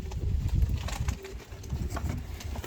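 Pigeons released slowly from a box coo and rustle close by, with soft flutters and murmurs over a busy outdoor background.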